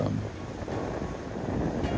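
Ocean waves wash against the shore under gusty wind buffeting the microphone, a continuous roaring hiss with no voices.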